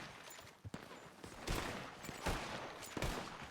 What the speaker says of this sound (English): Oh, they're shooting at you, Wade.